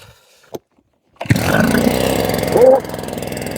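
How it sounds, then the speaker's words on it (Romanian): ROTAKT 3WF-600 mist blower sprayer, a 3.4 hp orchard atomizer, engine starting up: a brief knock and pause, then the motor catches and runs loud and close, briefly revving higher before settling into a steady rattling drone. "Haideți să-i facem proba și să încercăm să-l pornim."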